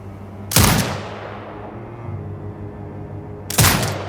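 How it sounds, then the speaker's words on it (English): Drone turret firing in Sniper Ghost Warrior Contracts 2: two loud, sharp gunshot blasts a few seconds apart, each decaying over a steady low hum of game ambience. "Exit binocular mode and command the turret to fire."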